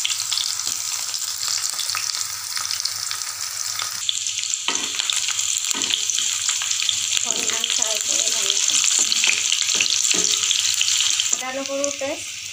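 Onions and black cumin sizzle steadily in hot oil, a bright continuous frying hiss with scattered stirring scrapes and clinks near the end.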